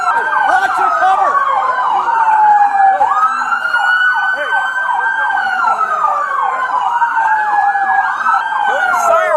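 Several overlapping police sirens at a traffic stop wailing loudly and continuously, their pitches rising and falling against each other, close by.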